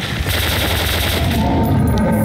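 Rapid machine-gun fire while shooting a monster in the video game Metro: Last Light, a loud dense burst of repeated shots that runs continuously, then thins out near the end.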